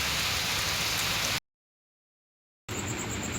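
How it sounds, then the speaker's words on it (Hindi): Steady hiss of light rain falling, broken by a sudden stretch of complete silence before the rain sound resumes. "हल्की फुल्की बारिश आ रही, ज़्यादा तेज़ नहीं है।"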